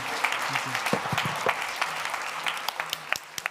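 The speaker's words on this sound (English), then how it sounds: "a big round of applause for Mohomoudou." Light applause from an audience after a talk, made of scattered individual claps that are fairly close and uneven, with faint murmuring underneath.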